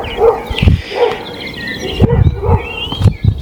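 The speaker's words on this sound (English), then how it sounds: "There's a dog barking." A dog barks outdoors on a mountaintop in Wales overlooking the sea, several sharp barks spaced irregularly at a moderate distance, with wind and other faint background sounds around them.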